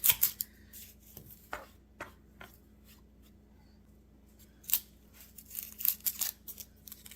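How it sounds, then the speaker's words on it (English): A knife chops through a red onion on a cutting board in a few scattered, crisp, close knocks separated by quiet gaps, with no talking. "I have a bad spot on the onion, so that is getting chopped off."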